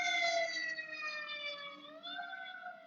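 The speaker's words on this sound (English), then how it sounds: "when you hear the sirens right now" An emergency vehicle siren wails with a steady, slowly sliding pitch, loud and fairly close, holding throughout with a brief dip and rise near the end.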